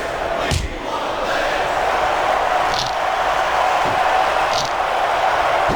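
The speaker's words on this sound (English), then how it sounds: "I can't remember the last time I seen a crowd so pumped up." A crowd roars steadily in the WWE SmackDown vs Raw 2006 video game during a triple threat women's match. Occasional thuds and slams cut through the dense, continuous cheering.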